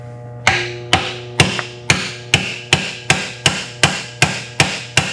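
Steady hammer taps on an engine's valve adjuster set screw, about eleven sharp metallic strikes at an even pace, close and clear with no talking.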